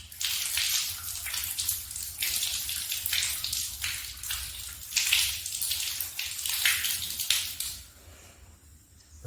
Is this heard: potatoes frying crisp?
no